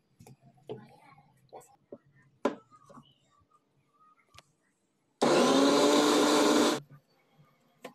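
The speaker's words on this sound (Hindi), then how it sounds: "फिर इसको हम लोग ग्राइंड कर लेंगे" Mixer grinder grinding chickpea masala with curry leaves, one loud steady whirring burst of about a second and a half, set between quiet kitchen clinks and soft voices.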